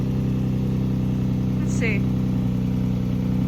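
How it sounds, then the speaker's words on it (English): A project car's engine and exhaust idle steadily nearby, a low even rumble running throughout while someone speaks briefly over it. "Exhaust sounds a lot better too. A lot quieter."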